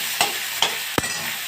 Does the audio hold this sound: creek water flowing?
no